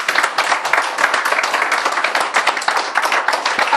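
A church congregation claps and applauds during worship, a dense, steady stream of hand claps with no talk over it.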